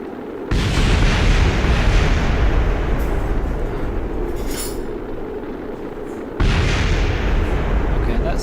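Rocket exploding in Kerbal Space Program makes a loud, sustained roaring rumble of blasts that starts abruptly, continues for several seconds and then surges again with a second burst, all close and heavy.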